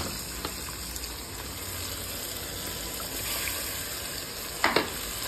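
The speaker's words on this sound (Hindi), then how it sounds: "मसाला अच्छे से भूनते हैं, थोड़ा पकने देते हैं थोड़ी सी देर, इस मसाले को हिलाते रहते हैं चलाते रहते हैं।" A besan gatte curry masala of onion, salt, chili, turmeric, coriander and garlic, with a splash of water, sizzles softly and steadily in a pan, with a couple of faint stirring clinks near the end.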